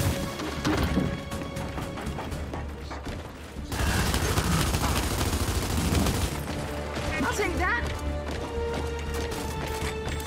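Gunfire and heavy crashing impacts from the video game Gears 5 during a campaign fight, a dense, loud barrage of shots and mechanical clatter over continuous game noise and music, with players talking at times.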